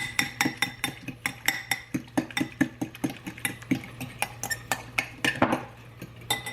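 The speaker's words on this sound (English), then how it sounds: "I'm going to give that just a little mix." Rapid clinking of a utensil against a bowl as an egg is mixed into chopped onion, a steady run of sharp, close taps with no voices.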